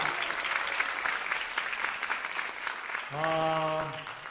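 A crowd applauding steadily in a large church during a worship service, with a sustained musical tone joining in near the end.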